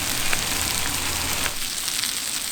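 Onion sizzling on a homemade discada cooking fajitas: a steady, close, broadband frying hiss with faint crackles, dropping a little softer after the midpoint and continuing alone without talk.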